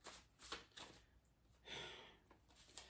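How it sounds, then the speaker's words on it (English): Oracle cards shuffled quickly by hand, heard as several close, crisp riffling and flicking bursts with short pauses between them and no talking. "Do a real quick shuffle on these cards"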